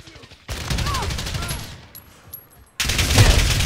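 Bursts of automatic gunfire from Call of Duty: Modern Warfare (2019) gameplay, a sustained volley followed by a quieter lull and another loud burst near the end, with in-game effects layered over the shooting.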